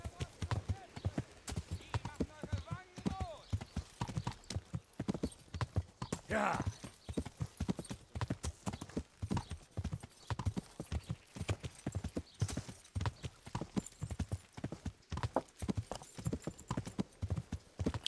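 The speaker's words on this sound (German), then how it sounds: "Wir bleiben auf dem Weg mit dem Pferd." Horse hooves clip-clopping steadily along a forest path while riding in the medieval video game Kingdom Come: Deliverance, a continuous rhythmic trot heard up close throughout, with an occasional whinny and a person talking over it at times.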